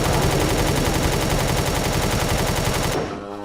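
Automatic gunfire in the video game Empyrion, fired at villagers, comes as a loud, dense, rapid stream of shots for about three seconds before cutting off abruptly into a fading tail.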